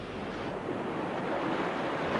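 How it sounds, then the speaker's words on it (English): Pacific Ocean waves breaking on a California beach, a steady, dense wash of surf that swells slightly louder toward the end, heard alone without speech. "This is the Pacific Ocean."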